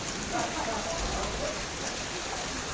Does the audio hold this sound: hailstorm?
yes